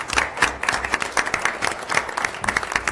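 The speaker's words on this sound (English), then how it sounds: "I'd like to have the students give their caretakers and parents a round of applause" Applause at a school board meeting, a crowd of parents, caretakers and students clapping briskly and continuously, fairly close and loud, no talk over it.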